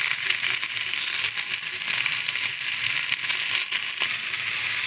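Potatoes and carrots hiss in hot oil in a wok with fried onion and peanuts, a constant bright sizzle with a few faint crackles and pops running throughout.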